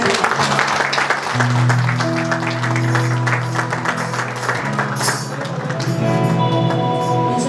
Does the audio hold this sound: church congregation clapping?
yes